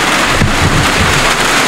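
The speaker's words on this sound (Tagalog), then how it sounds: "Wala nang tigil ang ulan mga idol." Heavy rain pours in a loud, dense, continuous hiss with low rumbling wash, close by and steady throughout.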